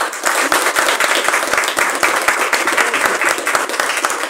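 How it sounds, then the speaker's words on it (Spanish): Audience applause at a book presentation at the FIL 2024 book fair, loud sustained clapping from a roomful of people, dense and even from start to finish with no talk over it. "Abrazo y aplauso."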